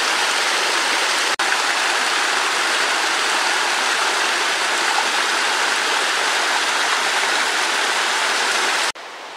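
A small forest stream with green grass in its middle flows steadily, giving a loud, unbroken rushing and bubbling wash close by with no voices.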